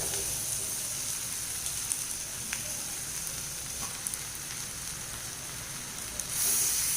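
Prawns sizzle in masala in a hot pan, a steady, dense frying hiss throughout that swells louder in the final moment, with no talking.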